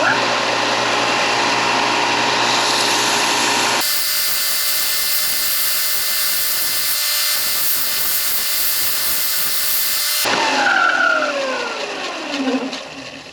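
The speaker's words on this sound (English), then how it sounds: "All I've got is just a tabletop belt sander here. And I'm just very gently just run it across the bottom." A tabletop belt sander smooths the underside of a Firebird dash piece, a loud continuous high whine running throughout with the pitch shifting as the part is pressed and rolled against the belt, close and with no talk.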